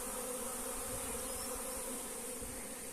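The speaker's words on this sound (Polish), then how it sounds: "bo tu się jeszcze wiesza rójka" A honey bee swarm hangs near a hive, filling the air with a dense, continuous buzzing hum that holds steady and fairly faint throughout, with no voices.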